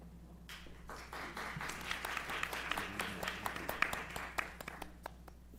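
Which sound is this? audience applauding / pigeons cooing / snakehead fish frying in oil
audience applauding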